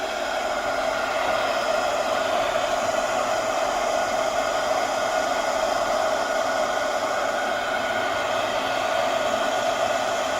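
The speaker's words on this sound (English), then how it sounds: "Heat gun." A heat gun blows over wet paint on a junk journal cover, a steady, close whooshing roar of hot air that runs unbroken for the whole stretch with no talk.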